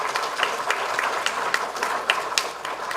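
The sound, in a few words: audience applause at a lecture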